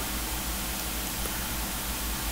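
A steady, even hiss of broadband noise, constant and unchanging from start to finish with no other sounds.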